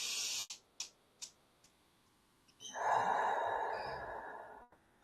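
After a few soft clicks, one person draws a deep, audible breath lasting nearly two seconds, close to the microphone and fairly quiet, with no speech.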